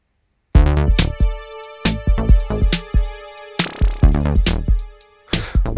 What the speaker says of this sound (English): we're going to use the Behringer Pro 1 for that, just to have the occasional little electro splutter